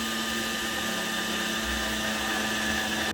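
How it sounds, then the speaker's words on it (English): Blender grinding garlic, ginger and green chili into a paste, a loud steady whirring motor drone that runs unbroken and cuts off right at the end. "we simply blend garlic, ginger, and an optional green chili"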